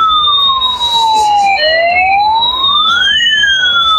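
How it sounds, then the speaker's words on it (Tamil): A battery-powered toy ambulance sounds its electronic siren, a loud two-tone wail sweeping up and down continuously and close by, with no voices over it. "Battery ambulance. இது மூவ் ஆகும்."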